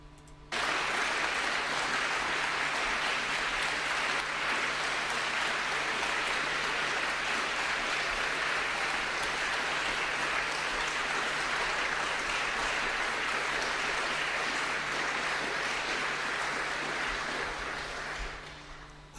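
Sustained, dense audience applause fills a political debate hall, loud and steady for nearly twenty seconds before tapering off at the end.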